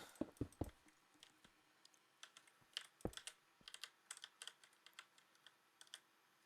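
A computer keyboard being typed on, quick irregular clicks and taps in bursts, close and fairly quiet, with no voices.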